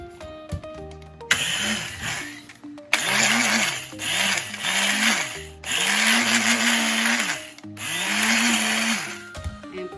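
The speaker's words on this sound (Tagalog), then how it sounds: "Tapos igiling po uli natin." A kitchen blender grinds crackers mixed with sugar for a cream cheese cupcake base, running in several loud whirring bursts with brief stops and changing pitch as the crumbs shift.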